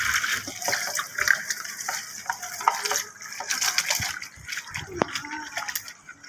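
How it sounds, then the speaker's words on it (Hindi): Running water splashes steadily while something is rinsed and washed by hand, with scattered knocks and clatter, and someone speaks over it now and then. "अच्छी तरह धो लेती हूँ।"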